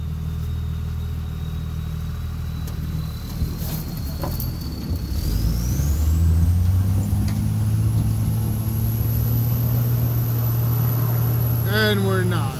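A worn-out Dodge 2nd Gen truck on bald tires idles and then revs as it tries to climb a snowy slope in slippery woods, its engine note rising and holding loud and steady while people talk over it.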